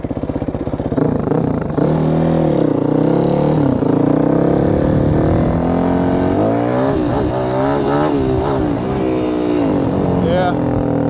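Yamaha WR450F dirt bike engine revving hard and unevenly during wheelie attempts, loud and close, with jerky throttle blips rising and falling continuously throughout.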